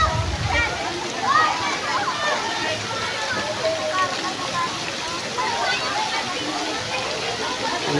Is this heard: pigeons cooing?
no